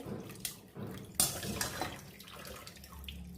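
Water squeezed by hand out of boiled taro greens, with several soft splashing and trickling bursts dripping into a container, fairly faint and close, no talking.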